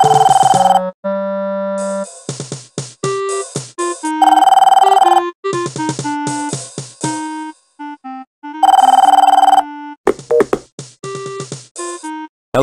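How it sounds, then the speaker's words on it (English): A telephone rings in the video game Police Quest 4, loud electronic tones in repeated bursts with gaps between them, heard alone without talk. "Answer the damn phone!"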